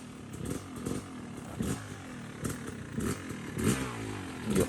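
Off-road motorcycle on a woods trail, its engine running loud and close with a rough, pulsing idle and repeated throttle blips that rise and fall roughly every second.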